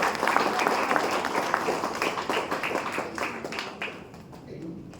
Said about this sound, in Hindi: बहुत बढ़िया, ताली तो होनी चाहिए भाई।